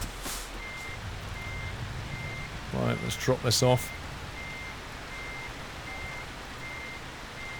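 A truck in the rain reverses while its backup alarm beeps at a steady, regular rhythm, fairly faint and distant; someone talks briefly over a burst of engine and brake noise midway.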